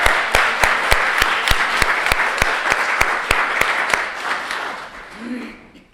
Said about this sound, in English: clap your hands and give thanks for the people who will serve